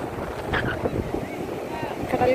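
Strong sea wind at Promenade Beach in Pondicherry, buffeting the microphone in a continuous loud roar with gusty swells throughout.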